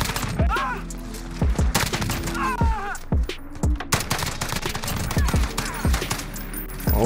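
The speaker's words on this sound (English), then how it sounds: "This gun's shooting." Rapid, tightly spaced gunshots ring out in the Modern Warfare video game, repeated volleys of close, punchy fire with a steady low rumble beneath and brief game effects in between.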